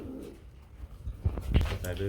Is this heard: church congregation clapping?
no